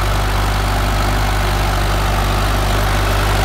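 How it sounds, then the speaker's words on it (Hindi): An Indo Farm tractor engine runs close by, a loud steady low rumble with an even throb, idling continuously without speech. "ट्रैक्टर की आवाज भी भाई हल्की सी"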